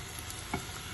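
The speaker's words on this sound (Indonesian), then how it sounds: "Pagi-pagi goreng mendoan sambil itu minum kopi" Tempeh mendoan frying in oil early in the morning, a steady soft sizzle with a brief stir or clink partway through, close and alone.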